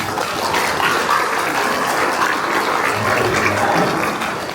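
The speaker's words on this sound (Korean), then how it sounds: "그분들에게 감사와 환영의 박수를 함께 드립니다" A church retreat audience claps for volunteers, a dense, sustained burst of applause from many hands that fills the room evenly throughout and eases off slightly at the end.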